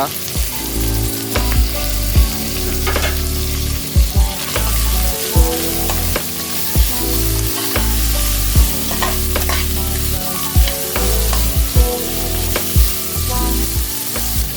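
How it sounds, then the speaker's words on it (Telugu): Mint and coriander leaves frying in a pan of hot oil for Hyderabadi bagara rice, with a steady close sizzle, repeated sharp clacks of a spatula stirring against the pan, and no talking. "ఆ తర్వాత పుదీనా, కొత్తిమీర వేసుకుని ఇవన్నీ లేత బంగారు రంగులో వేగాక"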